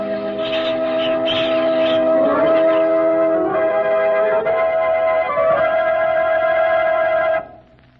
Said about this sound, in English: ringing the bells till they rocked the people